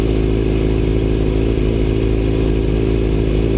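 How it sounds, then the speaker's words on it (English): A loud, steady Ford Mustang engine rumble with a low throbbing exhaust note, close and continuous, rough and unbroken throughout. "He made sure I heard his exhaust."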